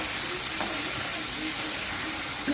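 Shredded cabbage stir-frying in a pan for a Marathi-style patta gobi bhaji, giving a steady, close hiss and sizzle throughout with no talk.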